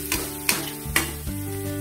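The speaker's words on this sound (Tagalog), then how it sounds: "So, papasangkotsa ko na lang yan at ihahalo ko na." Ground beef with garlic sautéing in a pan, a steady close sizzle broken by several sharp scrapes and clicks of stirring at regular intervals.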